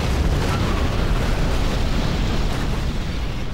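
Continuous booming explosions from bombs dropped in Command and Conquer Generals Zero Hour, a dense, loud rumbling wash of blasts with no clear gaps, steady throughout.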